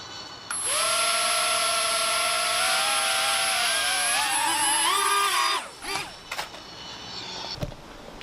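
A Millennium Falcon toy drone flies indoors with a loud, steady high-pitched whine of spinning rotors that wavers slightly. It stops abruptly after about five seconds, followed by a few knocks and rattles.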